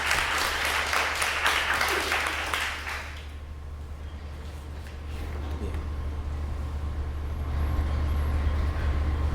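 Audience applause at a performance art event at the Zendai MoMA in Shanghai fills the first three seconds, loud and dense, then fades into a low room hum and ambient noise.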